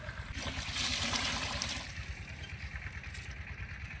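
Water is poured into a pot of rice sautéed with onion for cauliflower fried rice, a close, trickling splash that is strongest at first, then eases into a softer steady flow with no voices over it.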